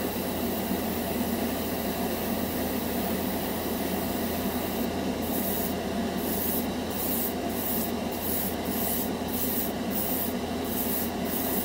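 A $14 dual action airbrush spraying paint, a constant hissing rush of air, with rhythmic short bursts of brighter hiss in the second half as the trigger is worked.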